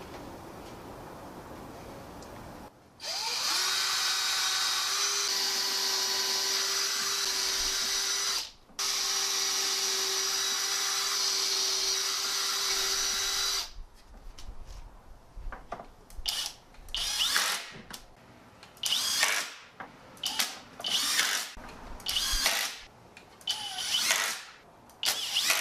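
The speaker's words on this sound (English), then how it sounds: "So I'm going to drill a few pilot holes and get it done." A power drill bores pilot holes into a wooden furring strip. Two long steady whirring runs are followed by a series of short, stop-start bursts, loud and close.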